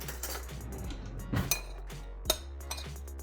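A spoon clinks against a bowl a few times while ingredients are stirred, light sharp taps over a quiet background.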